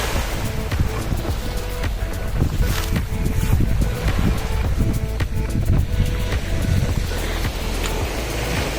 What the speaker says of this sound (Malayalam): ഒരു ബോട്ട് കണ്ടോ.